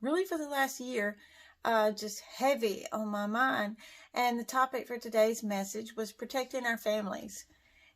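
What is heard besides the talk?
No everyday noise stands out behind the speech.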